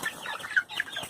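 Young chickens being moved to a new place cluck in a few quick, close, moderately loud calls within about a second, with no voices present.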